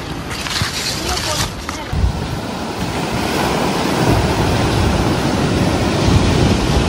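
Ocean surf rolls steadily onto a beach at Gokarna near Half Moon and Om beaches, a loud continuous wash of waves with heavy wind buffeting the microphone.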